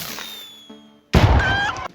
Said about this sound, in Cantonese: 邊個掟炮仗啊？